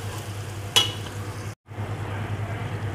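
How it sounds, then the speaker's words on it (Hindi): Cauliflower goes into a pan of hot spiced masala for aloo gobi, with a brief sharp rattle followed by a steady, quiet sizzle and a short silent break. "मैं इसमें गोभी डालने लगी जी"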